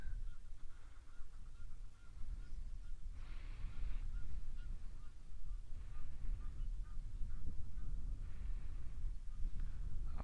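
Egyptian geese honk repeatedly outdoors, harsh nasal calls rising over a steady background rumble, some nearer and louder than others.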